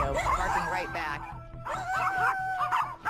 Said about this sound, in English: Bitsy, of course, is going right at him, barking right back